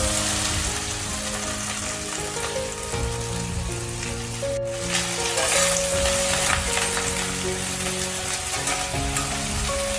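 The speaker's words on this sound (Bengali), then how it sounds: "আমি কুটে রাখা ঢ্যাঁড়স দিয়ে দিলাম।" Chopped okra frying in hot oil over a medium flame, a loud, dense, rain-like crackling sizzle that keeps up steadily, with a brief clatter partway through.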